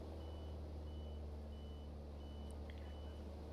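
In a Prepar3D simulation of an A2A Piper Cherokee, the autopilot disconnect sounds as a series of faint, evenly spaced electronic beeps over the steady low drone of the single-engine cockpit.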